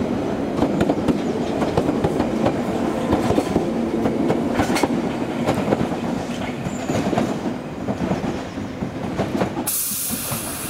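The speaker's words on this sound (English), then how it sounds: "we've got a Piccadilly Line train leaving for Uxbridge" A London Underground Piccadilly Line train departs Cockfosters station bound for Uxbridge, with loud rumbling, rhythmic clickety-clack of wheels over rail joints and hissing, fading as it pulls away before a sudden burst of hiss at the end.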